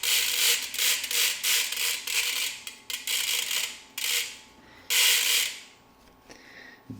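A dirty bicycle chain and sprocket turn during cleaning, giving a run of dry ratcheting, rubbing clicks in bursts with short pauses, close and fairly loud, with no talking.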